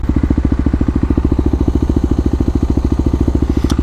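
A Kawasaki KLX250 motorcycle engine running while being ridden on the highway, a loud, close, steady rapid thumping pulse that holds an even rhythm throughout.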